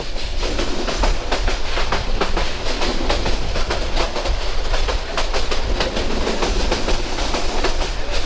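A train rolls past a railway level crossing at Lawachara in Sylhet, with a loud close rumble and a steady clickety-clack of wheels throughout.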